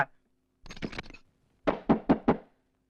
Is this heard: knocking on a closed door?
yes